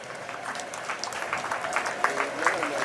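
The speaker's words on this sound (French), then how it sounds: "Nous pouvons entendre des mains de personnes qui sont en vie et en bonne santé en ce lieu." Funeral congregation clapping together during a church service, a steady mid-level wash of applause with a few sharper claps near the end, likely with voices mixed in.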